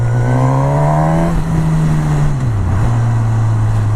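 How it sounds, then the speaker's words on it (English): A Suzuki GSX-S1000 motorcycle engine drones steadily at a low pitch, then drops and settles under engine braking as the throttle closes, with a faint whine above and no voices. "Just try the engine braking."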